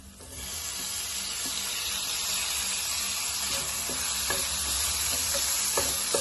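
Tomatoes sautéing with onion and ginger garlic paste, a dense steady sizzle filling the pan with a few soft spatula knocks, close and continuous, no voices.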